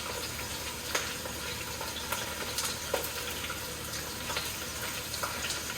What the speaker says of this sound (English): So I'm just going to saute them